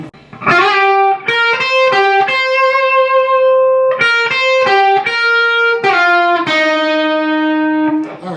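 Distorted electric guitar plays a lick on the first few strings around the tenth position, loud and close with quick picked notes and sustained bends, no voices.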